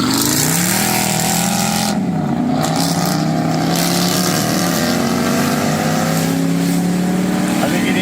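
Several engines rev hard together in a rev-off, a loud, continuous, overlapping drone that rises and falls in pitch and fills the whole stretch close up, with a voice faintly mixed in.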